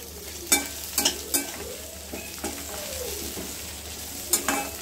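Curry leaves sautéing in a pan for a Tamil curry leaf chutney, giving a steady sizzle broken by several sharp scraping stirs of a spoon against the pan, close and clear with no talking.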